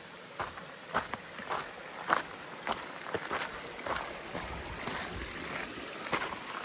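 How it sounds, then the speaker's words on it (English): A large stream rushes at a backcountry crossing on the Pacific Crest Trail, a steady broadband wash of flowing water with irregular splashy bursts and no voices. "Big water crossing."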